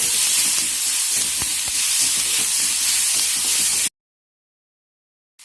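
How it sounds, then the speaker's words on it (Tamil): Turkey berries with slit green chili sauté in a hot pan with a steady, close sizzling hiss and faint stirring scrapes, cutting off abruptly into silence near the end. "நல்ல பச்சை வாசனை போகிற வரைக்கும் நல்லா வதங்கட்டும்"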